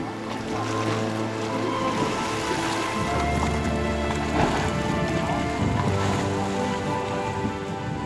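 Sea water surges into small rocky sea caves at Cape Drastis on Corfu, making a continuous roaring wash of waves that stays loud and even throughout, with a steady tonal layer underneath.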